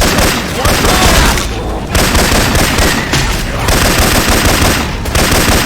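Repeated bursts of loud automatic gunfire come from Syphon Filter weapon sounds used in the game Left 4 Dead 2, with rapid rattling shots broken by short pauses between volleys, and players talking now and then.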